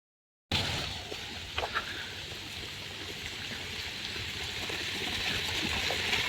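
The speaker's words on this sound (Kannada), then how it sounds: "ನೀರು" Water runs steadily in an outdoor spot in Education City, Qatar, a soft continuous trickling wash heard close, with a couple of faint knocks early on.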